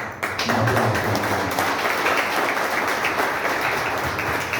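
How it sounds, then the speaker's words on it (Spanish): A small group applauds at a church wedding ceremony after the ring exchange, with sustained, steady clapping close by that continues for several seconds without talk. "Ok, un aplauso."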